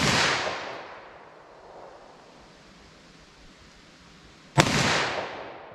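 A single sharp .357 SIG pistol shot cracks out loudly near the end, preceded by the fading tail of an earlier shot and a quiet outdoor hush.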